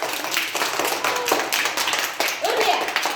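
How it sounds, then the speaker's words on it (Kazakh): Guests at a girl's fifth birthday party clapping together in a steady, brisk rhythm, close and fairly loud, with voices talking over the applause. "шапалақ ұрамыз"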